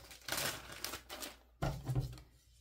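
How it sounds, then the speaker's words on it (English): A bag of soda ash for tie dye is torn and handled up close, giving bursts of crackly rustling and papery rips, with a sharp tearing burst near the end and quiet gaps between. "open the bag"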